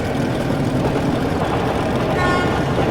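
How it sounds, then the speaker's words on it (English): A train horn sounds in the Metro: Last Light video game, faint steady tones rising over a dense, loud rumbling background of machinery and ambience late in the stretch. "That's the train!"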